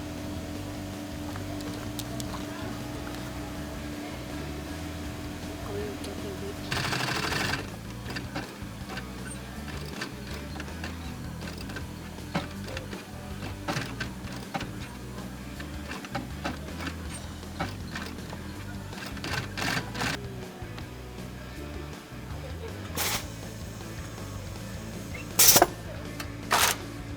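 Stitching machine sewing decorative designs onto a boot upper cut from Levi's denim jeans, a steady mechanical whir running throughout at close range, broken by a few sharper clacks and bursts.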